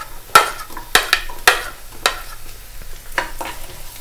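Carrot and onion stirred and sautéed in a hot pan for creamy cheese pasta: a few sharp scraping strokes of a spoon against the pan over a steady soft sizzle, with no talking.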